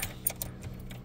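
A set of car keys jangles briefly and faintly, a few light metallic clinks close by in a quiet space.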